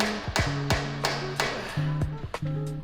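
A big hammer slams again and again against a strut stuck to the hub on a Honda FK8 Civic Type R. There are about seven heavy metallic whacks at an uneven pace, close and loud, with faint ringing between the blows.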